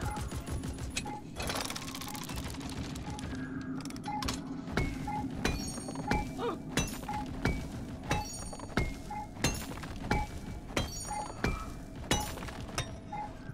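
An automated turret in Deep Rock Galactic fires at a spitball infector, sharp rapid shots ringing out in a steady rhythmic series over a busy background of game noise.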